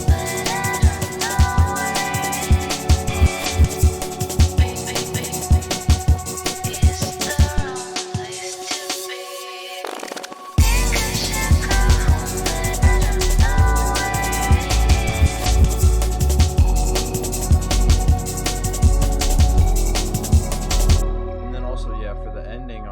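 Loud jungle/drum and bass drop made in FL Studio: dense breakbeat drums and synths, a brief near-silent break, then the full drop returns with heavy bass and cuts off near the end.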